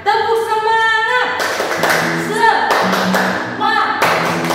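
At a children's Sunday school service, kids and a teacher perform a rhythmic spirit clap, bursts of claps mixed with chanting voices close by.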